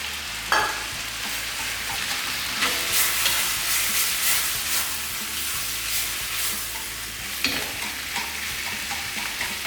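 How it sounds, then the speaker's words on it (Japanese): Pork kimchi and thick-cut onion being stirred in a hot frying pan, a steady close sizzle with scraping spatula strokes and a couple of sharper clacks, no talking. "さっと混ぜていきます。"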